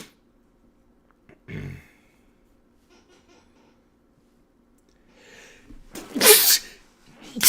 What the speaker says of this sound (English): Fucking sneezed.